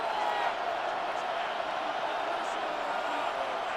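Stadium crowd at a football game during a third-and-goal play, a steady dense roar of cheering voices spread wide and sustained, with a commentator talking over it.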